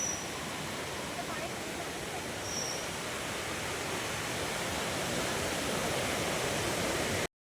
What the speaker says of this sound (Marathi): हा शीतखडा धबधबा आहे हा इथून खाली पडतोय